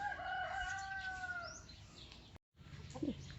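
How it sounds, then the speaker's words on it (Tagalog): A rooster crows once with a drawn-out call, followed by softer clucking from chickens nearby against a quiet outdoor background. "Ito na yung mga manok."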